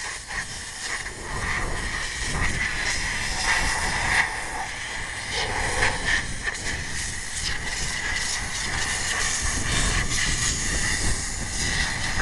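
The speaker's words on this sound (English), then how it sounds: "have your engine steam cleaned now" Steady, loud hiss of pressurized steam spraying onto a car engine without pause, with faint mechanical rumble underneath and no voices.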